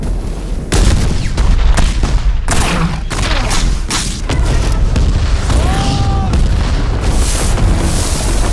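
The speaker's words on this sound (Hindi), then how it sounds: "अपनी तोपे दागो इन पे।" Cannons fire in a historical battle scene, heavy booms repeating loudly across the whole stretch amid dense battlefield noise, with voices faintly present underneath.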